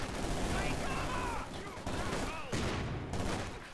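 Gunfire and a grenade blast in the World War II strategy game Company of Heroes 2, a loud, dense stretch of overlapping shots and bursts with a commentator talking over the battle.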